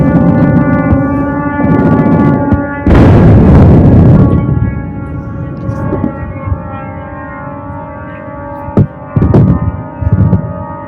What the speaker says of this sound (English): This is the sound of a drone, not the air raid alarm.